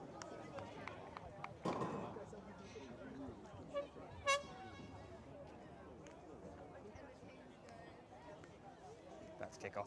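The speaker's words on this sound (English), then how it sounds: "blare their air horns loud." Christchurch United football fans at a Chatham Cup match sound a couple of short, distant air horn blasts that ring out over crowd noise and a commentator's steady talk.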